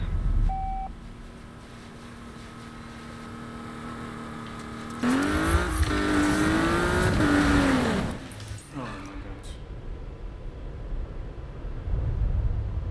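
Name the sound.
car racing and drifting in video game Need for Speed 2015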